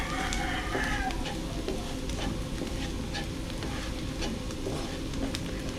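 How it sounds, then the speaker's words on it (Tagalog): Ingredients for menudong puti sautéing in a pan, a continuous sizzle with scraping stirring sounds, fairly close and steady. "Gigisahin lang po at aantayin lang natin ulit."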